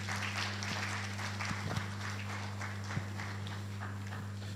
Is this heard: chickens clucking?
no